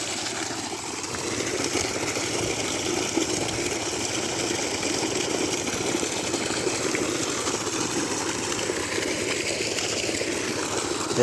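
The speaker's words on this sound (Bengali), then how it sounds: "1 হর্স পাওয়ারের 2 ডেলিভারি মোটর, ওয়াটার পাম্প" A 1 hp two-delivery electric water pump runs steadily, a continuous motor hum mixed with gushing water flowing out into a field channel, loud and unbroken throughout.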